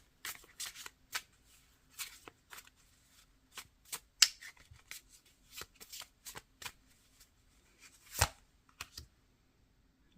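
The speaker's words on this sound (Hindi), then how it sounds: "लास्ट कार्ड निकालेंगे" Tarot cards being shuffled by hand before the last card is drawn, a quiet run of soft riffles and light flicking taps in an irregular rhythm, with no talk.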